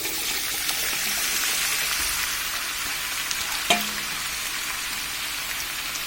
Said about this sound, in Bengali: এখন আমি তাহলে ভাজিগুলো দিয়ে দিই। তেলটা গরম হয়ে আসছে।